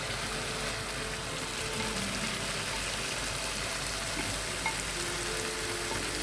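Fish roe dropped into hot spiced oil fries with a steady, dense crackling sizzle throughout, close and even, with no voices.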